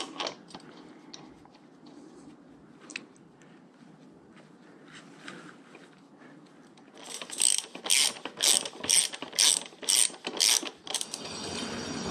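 Hand ratchet tightening the brake bolts on a Royal Enfield Meteor 350 motorcycle, a run of close, loud rapid clicking bursts in quick succession after a quieter stretch of faint workshop handling noise.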